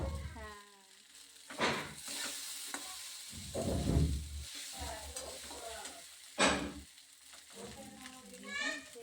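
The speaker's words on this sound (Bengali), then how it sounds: "তারপরে কড়াইয়ে গরম ঘি দিয়ে ভালোভাবে সাবুটাকে ভেজে নিতে হবে।" Soaked sago frying in hot ghee in a wok, a steady soft sizzle with scraping stirring strokes, close by and moderately loud, mixed with intermittent voices talking throughout.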